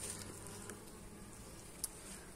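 Honeybees buzz inside a hive in late autumn with the entrances closed, a faint, steady low hum with a brief wing flick or tap near the end, and no voices.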